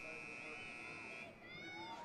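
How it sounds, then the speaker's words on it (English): A long, steady electronic buzzer tone holds for over a second, then cuts out as crowd noise and chatter continue at a busy women's lacrosse game. "as the buzzer goes off"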